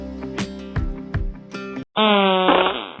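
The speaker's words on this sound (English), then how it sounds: "They call this fart the drive-by." An animal lets out a series of loud, close flatulent blasts, several short sputtering bursts in a row, then a brief pause and one long, drawn-out buzzing fart.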